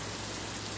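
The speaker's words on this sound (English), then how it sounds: "we're being pounded with rain" Heavy rain from Tropical Storm Fay pounding down outdoors in Maryland, a steady dense wash of noise with no pauses, fairly loud and constant, with no voices over it.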